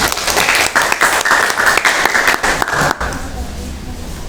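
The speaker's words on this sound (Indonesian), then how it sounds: "Tepuk tangan untuk kelompok" A classroom audience applauds a student group after their presentation, dense clapping with sharp individual claps that stops abruptly, followed by a quiet room.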